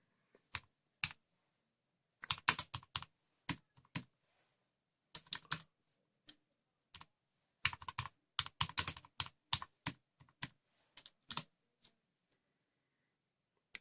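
Computer keyboard arrow keys tapped to steer a 4tronix Agobo robot during a motor test, giving quiet, close, irregular clicks in short bursts with pauses between, no voices.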